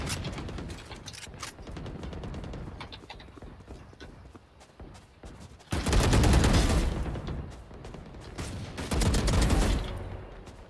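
Vandal rifle gunfire in the video game Valorant: a stretch of rapid, quieter shots and clicks, then two loud, dense automatic bursts near the end, each lasting about two seconds.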